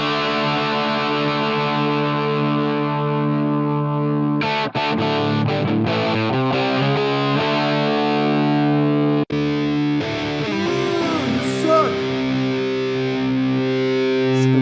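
Heavily overdriven electric guitar through a Line 6 POD Go Plexi amp model with the drive turned up rings out sustained chords and single notes, loud and gritty, with brief pauses between phrases and no voices.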